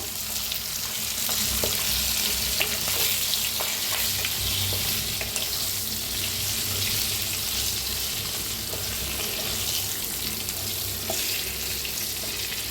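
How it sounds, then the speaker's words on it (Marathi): Green chillies stir-fried in a pan, a constant loud sizzle and frying hiss with occasional stirring scrapes, close up and continuous, with no voices. "तर मस्त अशा मिरच्या फिरवून घ्यायला लागलेल्या आहेत."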